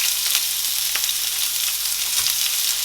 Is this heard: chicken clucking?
no